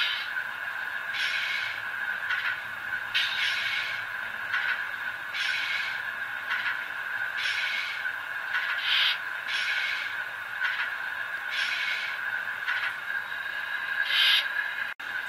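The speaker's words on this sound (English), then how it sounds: "one noise that I did not notice until now is when you switch between forward and reverse" A Tier 4 GEVO scale model locomotive with onboard sound gives off a repeating pulsed electronic tone as it switches between forward and reverse, a steady high whine with regular bursts, plus a faint mechanical click at the end.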